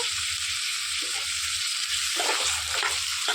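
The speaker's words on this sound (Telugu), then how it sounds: "ఇలా నూనెలో మగ్గిపోయేటప్పుడు ఒక చిన్న టేబుల్ స్పూను అల్లం వెల్లుల్లి పేస్ట్ వేసుకోవాలి." Ginger garlic paste sizzles in hot oil for an Andhra-style brinjal pulusu, a steady close frying hiss with a few soft stirring scrapes and no voices.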